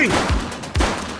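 Gunfire from a suspect in the police video game The Precinct: two heavy, booming shots roughly half a second apart, close and loud, with a brief echoing tail after each.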